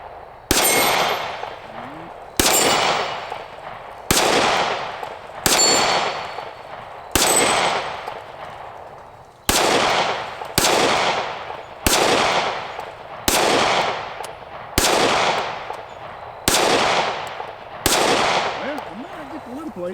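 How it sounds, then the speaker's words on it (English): A Ruger Max-9 9mm pistol fires about a dozen sharp, loud shots outdoors at a steady pace, each crack followed by a brief ringing decay as rounds strike steel plates. "Let's go over here and do a little bit of shooting here. See if I can hit anything with this gun."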